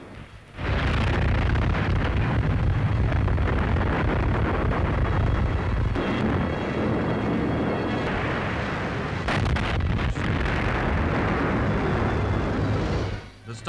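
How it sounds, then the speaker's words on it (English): Japanese warships on the Yangtze shell Kyukyang in a dense, continuous roar of booming blasts that stays loud and rumbling throughout, fading out at the end. "Japanese Navy on the Yangtze bombards Kyukyang."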